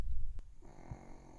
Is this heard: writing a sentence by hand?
no